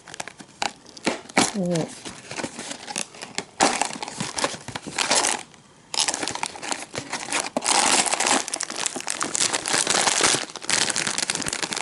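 A Pokemon Tohato chocolate snack sticker packet is torn open and handled, giving loud plastic crinkling and tearing close up in irregular bursts, with a brief quiet gap and a voice speaking over it.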